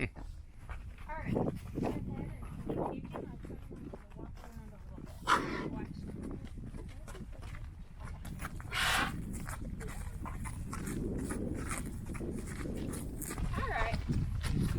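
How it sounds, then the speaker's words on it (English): A horse on a ranch walks with hollow clip-clop hooves at a steady pace, mixed with a dog barking and occasional animal calls, while people talk over most of it. "And that's a horse over there."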